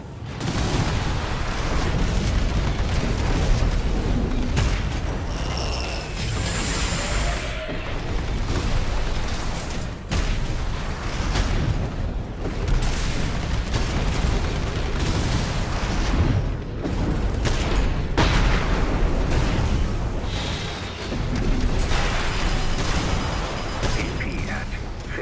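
Weapons fire and explosions in the mech combat game Armored Core VI come in dense, continuous volleys of booms, bursts and pops, loud and relentless throughout, with some speech mixed in.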